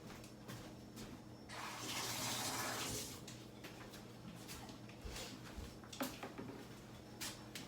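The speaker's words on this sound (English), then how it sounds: "let's rinse off the coffee grains" Running water splashes over a hydrometer to rinse off coffee grains, a steady broadband rush swelling for about two seconds near the start, then fading to a quieter trickle with a few small clunks and splashes.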